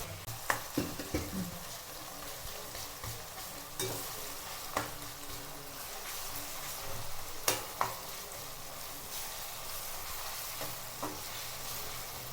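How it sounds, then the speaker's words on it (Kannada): Tomatoes and masala for a home-style biriyani sizzle steadily in a pan, with scattered clinks and scraping strokes from stirring; close and continuous, no voices. "ಇದಕ್ಕೆ ಎರಡು ಹಾಕಿದ್ದೀನಿ ಮಸಾಲಾಗೆ ಎರಡು ಹಾಕಿದ್ದೀನಿ ಫ್ರೈ ಮಾಡ್ಕೊತಾ ಇದ್ದೀನಿ"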